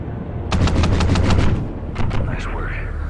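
Underwater gunfire in Call of Duty: Ghosts comes as a rapid burst of muffled, thudding shots followed by a few more scattered shots, over a dull, rumbling underwater ambience.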